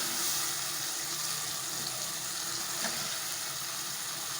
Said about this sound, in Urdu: شلجم کی سبزی اب میں بھون رہی ہوں